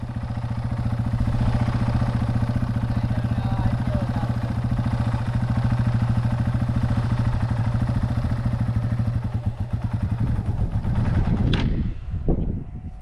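A motorcycle engine runs loud and close during a beginner's first riding lesson, holding a steady drone before cutting out near the end with a few clunks, while people talk.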